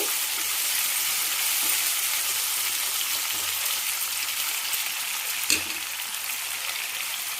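Green chillies and broad beans fry in a pan with a dense, constant sizzle that holds steady throughout, with faint stirring scrapes and one brief sharper knock near the end.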